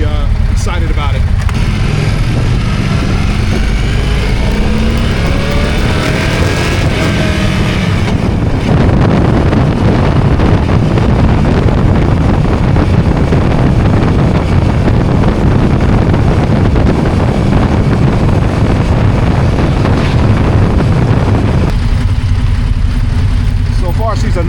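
An Indian Scout motorcycle ridden at a demo event, engine drone and heavy wind rush blending into one continuous loud roar, with a rider's voice talking over it.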